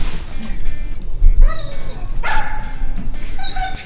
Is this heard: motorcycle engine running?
no